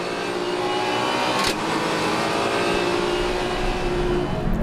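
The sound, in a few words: race cars accelerating, Supercar Challenge race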